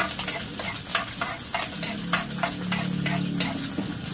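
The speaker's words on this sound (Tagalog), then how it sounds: "Ilagay na natin yung ating bawang." Garlic sizzles loudly in hot oil in a pan, with a steady frying hiss and repeated scraping spoon strokes stirring it, no voices over it.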